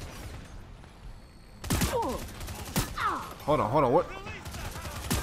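Missile launches in the LawBreakers shooter, heard as several loud bursts with whooshing sweeps layered over game effects, while a player talks briefly during the action.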